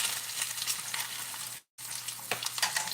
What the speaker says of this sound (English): Got that bacon.